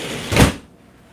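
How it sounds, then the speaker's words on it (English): A window being shut indoors during rain, heard as a single short knock-and-slide burst lasting about a quarter second, followed by quiet room tone. "let me close my window so I don't get no rain on my TV"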